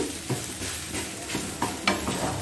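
Boiled beetroot, carrot and potato mashed with a spatula in a pan, for vegetable chops, a few soft rhythmic presses and scrapes over a low sizzle, no talking.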